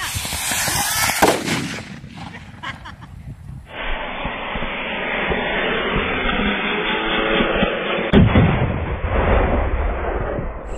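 Homemade firecracker rockets (nattu vedi) fired from opposite ends to collide and explode outdoors: a loud sharp blast early on, then a sustained roaring, crackling rush and a second strong burst near the end.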